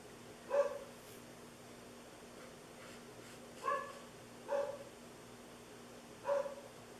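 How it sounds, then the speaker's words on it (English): A pet dog barks indoors at someone ringing the doorbell: four separate, fairly faint barks spaced a second or more apart, heard from another room over a steady background hum. "Sorry if you hear my dog."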